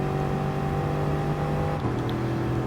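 A Bugatti Veyron driven in a racing game, a steady droning engine note holding even pitch and then shifting down partway through, loud and close, with no other sounds.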